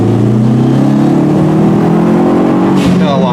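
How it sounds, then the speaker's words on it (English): A Dodge Neon SRT-4 accelerates hard in second gear, its engine droning loud and close with the pitch climbing steadily before a quick shift-like break near the end; a voice is heard under the engine. "Here's a little second gear pull."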